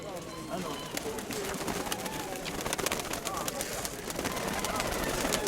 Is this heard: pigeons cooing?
yes